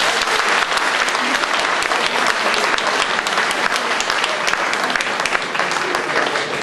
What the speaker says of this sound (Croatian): pozdravimo je velikim aplauzom